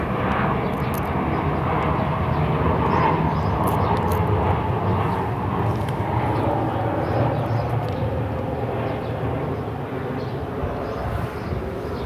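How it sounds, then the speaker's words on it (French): Airplane passing overhead, a loud sustained broadband roar that swells and slowly fades over about twelve seconds, heard on its own without talk. "Je vais attendre que l'avion passe."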